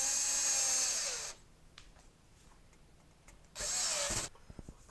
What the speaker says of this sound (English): I want to make sure all the screws are tight.